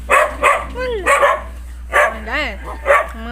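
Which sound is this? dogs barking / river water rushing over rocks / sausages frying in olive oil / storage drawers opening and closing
dogs barking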